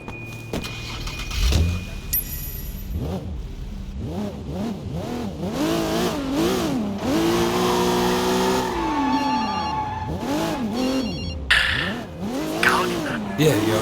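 A car driven in the video game Sleeping Dogs, its engine revving and falling through repeated gear shifts with tire squeals, loud and close, and a music track plays underneath.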